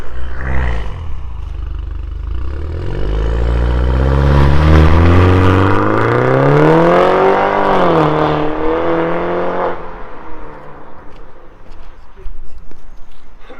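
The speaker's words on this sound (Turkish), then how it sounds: "sanki böyle popcorn varmış gibi 3 silindirlerde olduğu gibi patlama sesi çıkartıyor" A BMW G22 420 with a remote-controlled performance exhaust revs up and down in long swelling sweeps, loud and close, with crackling exhaust pops scattered through the roar before it settles to idle.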